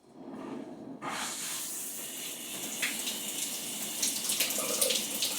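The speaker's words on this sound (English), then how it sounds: "Okay, so let's turn on the water." Water gushes from a shower tap in a bathroom during a showerhead change, starting abruptly after a quiet moment and then running as a steady close hiss.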